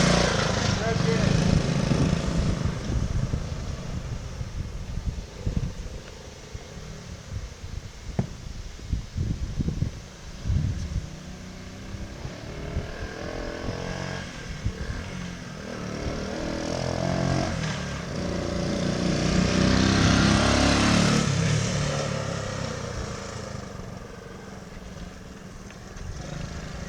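A 1969 Honda Trail 90 motorcycle with all-terrain tires rides in third gear, its small engine droning steadily and close, the pitch rising and falling with throttle, with wind noise over it.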